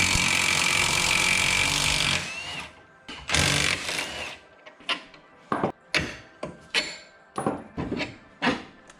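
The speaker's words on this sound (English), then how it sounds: "So now I need to get these bolts undone." A wrench undoes 19 mm suspension bolts during an FRS front suspension teardown: a long loud whirring run, a second burst, then a string of short, evenly spaced sharp bursts close by.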